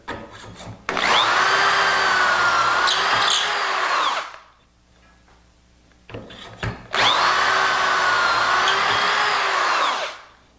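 A power drill whines steadily for about three seconds, stops, then runs again for a similar stretch, loud and close.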